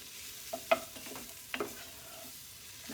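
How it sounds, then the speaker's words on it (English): Vegetables and spices for a three-bean turkey chili sauté in a pot with a soft, low sizzle. A spoon stirs and knocks against the pot now and then, and no one speaks. "doing my vegetables and spices first, sauteing them before I put all the liquids in"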